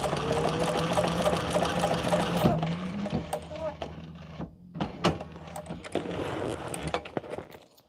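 A sewing machine stitches a bag in a steady whirring run for a couple of seconds, then stops, followed by quieter clicks and handling noises with a person speaking nearby.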